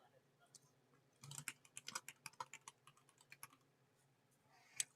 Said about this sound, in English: I'm typing it in right now.